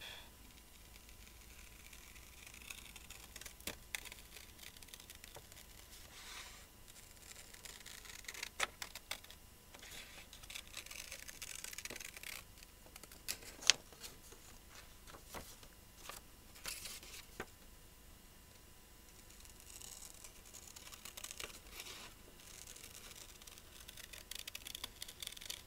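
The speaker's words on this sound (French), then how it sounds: "On prend nos ciseaux, on enlève" Scissors snip out a heart shape from a paper card base, with faint, scattered crisp cuts and small paper rustles spread across a quiet stretch.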